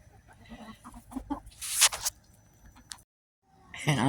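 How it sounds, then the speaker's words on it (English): A hen in a backyard chicken run clucks in short, soft bursts that mix with rustling and a brief louder scratchy sound, followed by a moment of silence and another cluck. "And I got one lonely hen"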